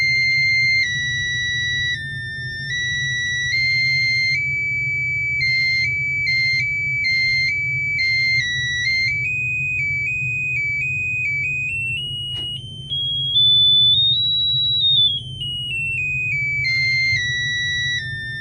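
A REM-POD Rev 3 ghost-hunting field sensor cycles through its electronic alert tones, steady beeps and warbling pitches that step up and down and sweep, loud and close, with no talking.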